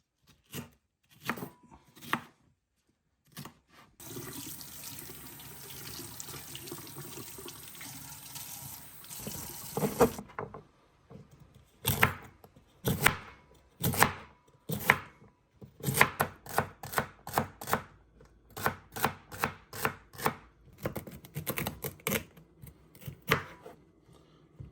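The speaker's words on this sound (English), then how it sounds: "So there's a lot of chopping involved in regards to peppers, carrots, fennel, some kale," Knife chopping peppers, carrots, fennel, kale and onions on a cutting board, rapid rhythmic clusters of sharp close taps, with a stretch of running tap water in the first part and no voices.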